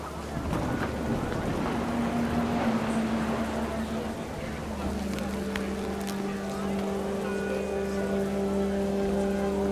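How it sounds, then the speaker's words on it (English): Steady heavy rain in the game What Remains of Edith Finch pours down in a dense, continuous hiss, with a low drone and a faint tonal hum running beneath it throughout. "The rain came down in buckets then"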